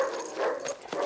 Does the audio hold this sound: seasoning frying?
no